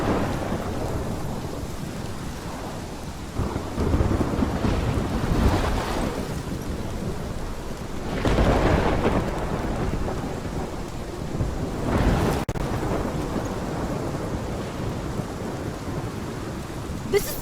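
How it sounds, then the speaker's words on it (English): Thunderstorm with steady heavy rain in the video game Life is Strange, with several deep rolling thunder swells rising over the constant downpour and a sharp crack near the end, no voices. "This is my storm."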